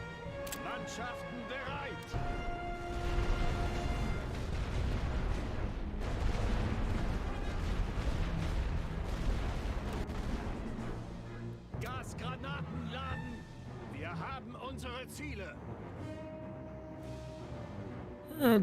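Light artillery fire in a World War I Western Front strategy game during a German winter offensive, a dense continuous rumble of booms and gunfire layered under game music, with a voice talking over it.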